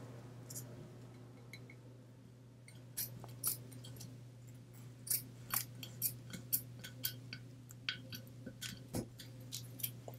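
Scissors snipping a plastic bottle in a craft project, a run of small crisp clicks that starts sparse and becomes a quicker regular series, close and quiet over a faint hum, with no speech.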